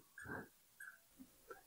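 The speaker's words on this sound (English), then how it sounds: "Is that Stevie's puppy?" A puppy whimpers softly nearby, two drawn-out high whines followed by a couple of short faint yelps.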